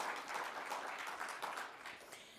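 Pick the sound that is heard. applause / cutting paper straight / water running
applause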